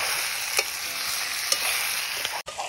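Meat and onions fry in hot oil during an outdoor picnic meal, a close, steady sizzle broken by a few sharp stirring clicks before it cuts off abruptly near the end.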